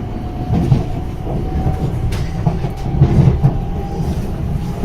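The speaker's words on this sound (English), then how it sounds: "it's passing through platform 8 without stopping" A train rumbles steadily through a station platform without stopping, with dense low rolling wheel noise, faint clicks and a light whine, close and continuous throughout.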